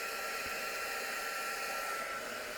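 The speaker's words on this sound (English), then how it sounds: "I'm going to heat up my heat tool, ready to melt that embossing powder." A crafting heat tool blows hot air to melt embossing powder, a steady, unbroken whirring hiss heard close up and alone for the whole stretch.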